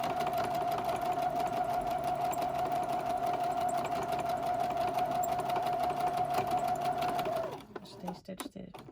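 A sewing machine stitching a newborn-sized elf outfit in black thread hums steadily and continuously at close range, then stops near the end, leaving a few light handling clicks.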